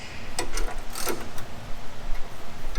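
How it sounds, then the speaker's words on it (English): Wrench clicks and ratcheting on the tie rod end sleeve bolts and nuts of a Corvair, a few sharp metallic ticks early on, close and fairly quiet over a low steady background. "we are going to loosen the little bolts here, loosen the nuts"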